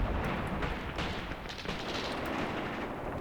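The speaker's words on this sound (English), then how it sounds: "Our incendiary artillery strike is now firing." Incendiary artillery shells from the wargame Graviteam Tactics Mius: a continuous, loud rumbling roar of overlapping blasts and crackles, thick and unbroken throughout, with brief sharper bursts layered on top.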